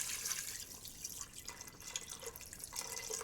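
Water is poured into a cooking pot of lamb, making a soft, splashy trickle that stays fairly faint and steady throughout.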